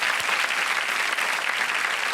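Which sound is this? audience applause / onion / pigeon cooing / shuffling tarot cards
audience applause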